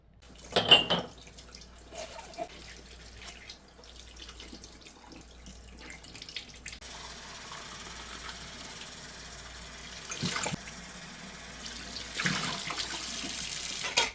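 Tap water runs into a sink while fourteen half-pint glass canning jars are washed, with an early clink of glass, then a steady, moderately close stream of water.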